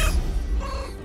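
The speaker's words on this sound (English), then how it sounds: "Oh, meow. Attract the attention of nearby creatures and draw them closer to you." Short cat meow from the video game Baldur's Gate III, a single close, clear cry lasting about a second over a low background hum.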